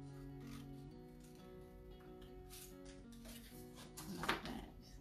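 Scissors snip into paper while a giant butterfly shape is cut out, giving faint close crisp cuts and rustling over a low background hum, with one louder cut near the end.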